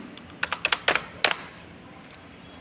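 Quick bursts of typing on a computer keyboard, a cluster of sharp key clicks in the first second and a half followed by quiet, close and moderately loud with no talking.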